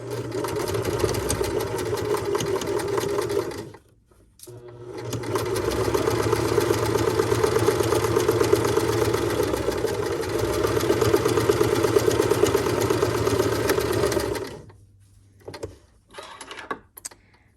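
A sewing machine stitches along a seam edge to close a mock French seam. Its motor runs in a steady, close drone for about four seconds, pauses briefly, then runs for a long stretch before stopping with a few short bursts.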